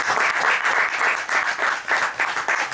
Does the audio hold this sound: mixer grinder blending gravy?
no